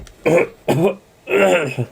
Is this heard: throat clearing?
yes